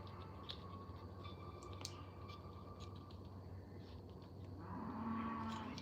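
Longhorn cattle lowing at a farm, a steady low drone running throughout with a deeper, louder moo rising near the end, no voices over it.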